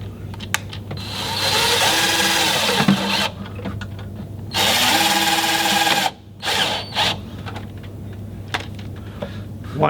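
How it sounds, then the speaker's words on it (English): A power drill whirs in two sustained bursts while tightening screws on an ice maker water pump, each winding down with a changing pitch, followed by short clicks and handling noises; no talking. "We'll then use the drill to tighten this back into position."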